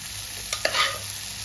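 Boiled chana dal is stirred into a pan of fried spices with cumin powder: two brief scraping stirs followed by a soft sizzle, close and short, with no talking.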